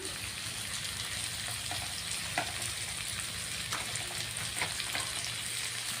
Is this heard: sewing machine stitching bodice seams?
no